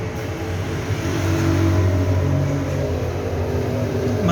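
A Belarus 510 tractor in very good condition idles with a steady, close mid-pitched engine drone that holds evenly, with a slight rise in loudness partway through.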